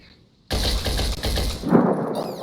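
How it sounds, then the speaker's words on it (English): An assault rifle fires a loud, continuous burst of about a second in the game Phoenix Point, followed by crunching impact and debris noise. "let's just opt to blast it to a tiny pieces with our assault rifle"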